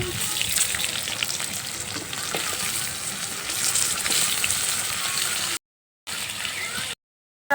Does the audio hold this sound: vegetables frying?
yes